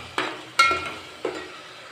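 Coriander and cumin powder frying in a pan for a goat head meat curry, three short stirring scrapes and sizzling bursts spaced apart over a faint background hiss, close and without talk.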